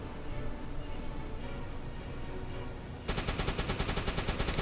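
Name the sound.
gun firing at Allied patrol in U-boat video game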